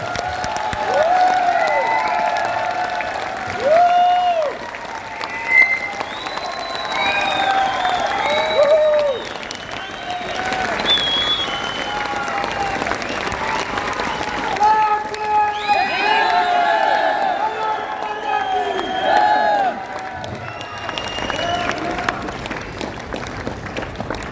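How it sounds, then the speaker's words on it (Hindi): A large audience at a motivational company program in Bhilwara claps loudly and continuously, with cheers and scattered whistles rising over the applause throughout. "पर जोरदार तालियों से, जोरदार तालियों।"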